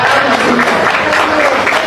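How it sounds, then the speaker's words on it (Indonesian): Students at a school gathering clap together in a dense, loud burst of applause that holds steady throughout, with faint crowd murmur mixed in. "Tepuk tangan untuk murid-murid Barunawati."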